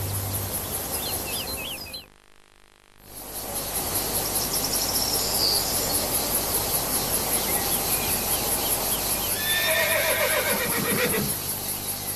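Horse neighing and whinnying with hoofbeats on a ranch, loud and close, with a brief near-silent gap early on and a long whinny near the end over steady background noise.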